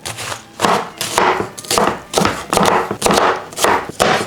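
A knife chopping onions on a cutting board at home, loud close rhythmic bursts of cuts coming in quick repeated runs, no voices over them.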